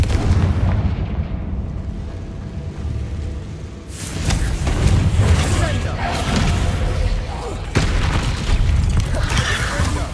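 Confringo spell blasts in the video game Hogwarts Legacy: loud booming explosions with crackling bursts, a heavy hit near the start and more impacts after the midpoint, under dense game effects and music.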